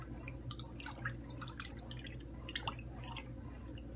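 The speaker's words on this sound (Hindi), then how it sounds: "और इसमें अभी डालेंगे हम सबसे पहले रूह अफ़ज़ा।" Rooh Afza syrup poured into a glass of cold milk, soft faint dripping and liquid trickles close by, quiet with no talk.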